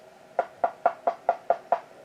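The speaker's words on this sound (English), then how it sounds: "The man knocked on the door" Seven evenly spaced knocks rap on a door, a crisp, fairly close and steady rhythm with nothing else in the background.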